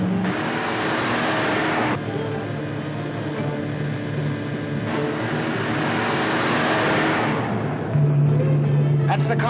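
Car speeding away, a loud, continuous engine roar in an old film soundtrack, with a brief pitch shift and a rising note near the end.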